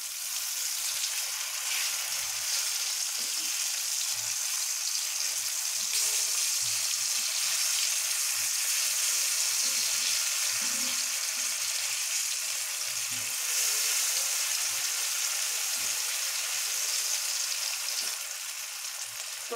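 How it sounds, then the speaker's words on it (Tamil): Slices of elephant yam (karunai kizhangu) shallow-fry in oil in a pan with a loud, continuous crackling sizzle that holds steady for a long stretch, with faint spattering and no talk. "கருணக்கிழங்கு நல்லா ஃப்ரை ஆகிடுச்சு"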